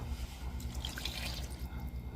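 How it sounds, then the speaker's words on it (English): Vegetable oil poured into dry boxed cake mix for strawberry shortcake, a soft continuous trickle with small drips, close and fairly quiet against faint kitchen background. "I'm going to come and add me some vegetable oil"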